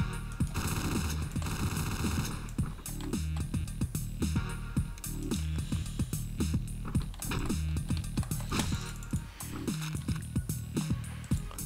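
Gunfire in the top-down game Hotline Miami, a series of sharp, loud shots in irregular bursts over a continuous music bed, with no talking.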